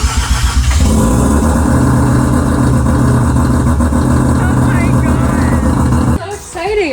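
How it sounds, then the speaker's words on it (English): A rebuilt Mazda RX7 rotary engine runs loud and close in a steady throbbing idle for several seconds, then cuts off abruptly near the end. "The car's running now."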